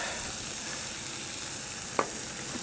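Finely chopped garlic fries in a little oil on a Feuerplatte grill plate, a steady close sizzle with one brief tap of a utensil.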